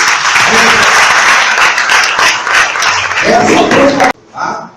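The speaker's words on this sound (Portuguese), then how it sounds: "Você pode aplaudir o Senhor?" A church congregation applauds loudly, a dense, continuous clapping that carries for about four seconds before breaking off, with voices calling out over it.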